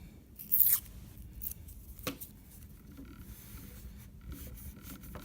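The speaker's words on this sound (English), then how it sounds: "Same idea, stroking over in this direction, coloring up and down this way." A colored pencil colors on paper in quiet, soft scratchy strokes that repeat up and down close by, with a brief sharper scrape near the start.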